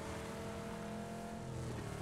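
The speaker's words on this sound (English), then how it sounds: "I hear a car on my left." A car engine in PUBG drones steadily nearby, a constant motor hum with no pauses, game-like and continuous throughout.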